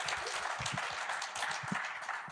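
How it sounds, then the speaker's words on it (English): An audience at a car sales panel event gives a round of applause, heard as a soft, continuous wash of clapping at low volume from a distance. "Round of applause for my daughter, y'all, please."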